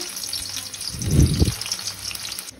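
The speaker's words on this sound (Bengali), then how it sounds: "এবার তেলে দিয়ে দেবো পেঁয়াজটা" Onion drops into hot oil in a kadai that already holds a pinch of sugar, for a mutton kosha. A brief, strong whoosh and sizzle rises, then settles into a faint background fry.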